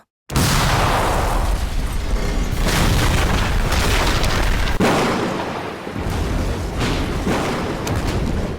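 A building explodes in an anime: a massive, sustained roaring blast fills the scene with dense rumbling debris and crashing that stays loud throughout, with a brief dip midway before the rumble continues.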